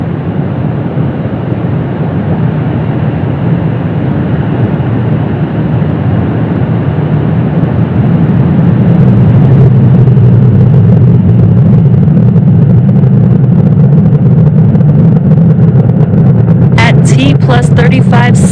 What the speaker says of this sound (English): Falcon 9 has successfully lifted off from Space Launch Complex 40 from Cape Canaveral, Florida